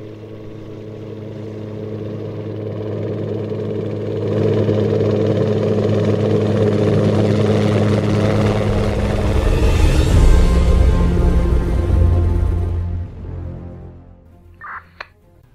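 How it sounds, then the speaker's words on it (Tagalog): A helicopter lands near a hospital. Its steady, loud engine and rotor drone grows in intensity, then cuts off sharply near the end, leaving a brief quiet tail. "Patugpaha kining helicopter anang dakong hawan sa ospital."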